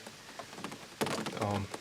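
Rain falls on an outdoor deer-hunting food plot in South Carolina, a soft steady patter of drops close by, with a louder brief rustle or thump toward the end.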